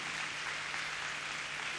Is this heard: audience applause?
yes